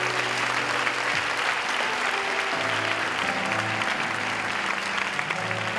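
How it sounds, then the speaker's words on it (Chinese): A hall audience at a church promo night applauds steadily, with dense, continuous clapping at an even loudness throughout and faint voices mixed in. "一个掌声鼓励我们的各位"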